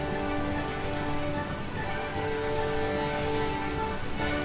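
Rain patters steadily on the battlefield in Nobunaga's Ambition Taishi, a continuous close hiss layered under sustained tonal game music.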